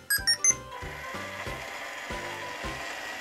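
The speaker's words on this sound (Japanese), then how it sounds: "洗剤と柔軟剤を入れて洗濯スタート。" A toy washing machine from a Licca-chan doll playset starts its wash cycle with a few short electronic beeps, then a steady plastic ratcheting clatter that repeats in a slow, uneven rhythm close by, with no talk.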